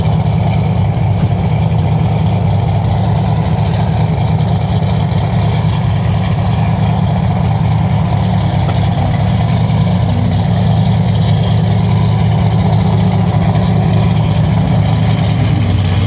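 Off-road rock crawler car 262, fitted with Mickey Thompson Baja Boss tyres, rumbles steadily at a loud idle at a rock wall event, its deep engine and exhaust drone running continuously and close throughout.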